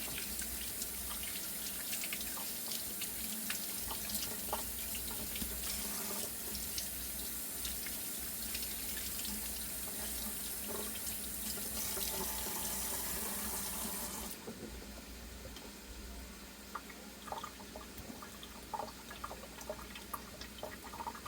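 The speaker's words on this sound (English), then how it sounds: "Let me go ahead and wash these carrots." Carrots are washed under a running kitchen tap, a continuous rushing stream of water splashing into the sink that softens and thins partway through, with no talking.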